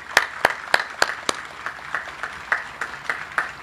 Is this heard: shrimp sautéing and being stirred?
no